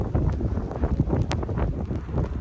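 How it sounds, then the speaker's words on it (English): Wind during a snow storm at a truck campsite buffets the microphone in a steady low rumble with gusty surges and faint rustling, no voices heard. "I don't know if you guys can see all that wind or hear the wind on camera."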